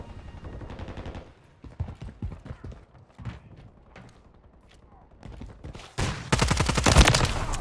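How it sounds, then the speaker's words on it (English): Call of Duty gunfire crackles in short irregular bursts and single shots, with a louder, denser volley toward the end amid game noise. "Taking effective fire."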